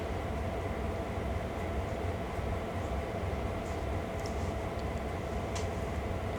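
A continuous, loud rumbling roar of a train running along the rails in the Train Sim World 2 video game, steady throughout with faint clanks and squeaks on top.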